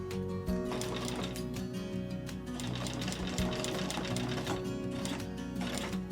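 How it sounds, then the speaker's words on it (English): A sewing machine stitches fabric for a cloven hoof piece, giving a close, steady rapid whir with a few brief pauses and changes in speed. "make sure you're sewing that complete 1/4 inch"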